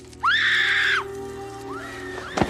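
A woman lets out a sharp, sustained scream of fear lasting under a second, followed by a quieter, shorter cry and a brief clatter, over a low background hum.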